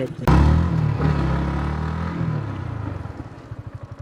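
MT motorcycle offered for sale, its engine firing with a sharp start and then running with a steady rumbling idle that gradually settles into a pulsing, thumping rhythm, close and loud with no talk.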